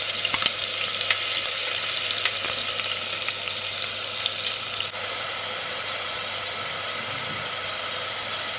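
Onion paste frying in a hot pan for a North Indian kadhi pakora: a dense, steady sizzle and hiss fills the whole stretch, with a few light clicks near the start, close and even.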